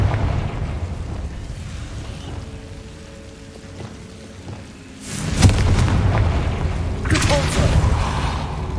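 Confringo fire spells blast in Hogwarts Legacy over a steady low rumble, with a loud crackling burst midway and a second flare shortly after, both trailing into a hissing, rain-like wash.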